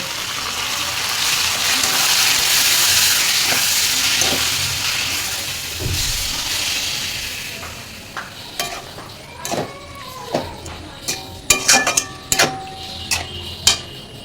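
Mutton, cut very small, sautés in a pan with onion, ginger and garlic paste and spice powder, giving a loud steady sizzle and hiss that fades midway, followed by scattered clinks and scrapes of stirring.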